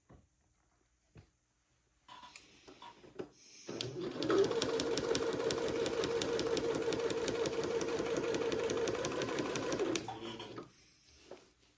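A sewing machine stitches a seam on an Eton suit with a steady, fast mechanical whirr and rapid needle clatter. It runs continuously for about six seconds after a few handling clicks, close up and fairly loud, then stops.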